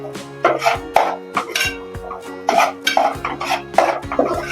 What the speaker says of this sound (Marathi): व्यवस्थित मसाल्यांचा कच्चापणा जाईपर्यंत ते परतून घ्यायचं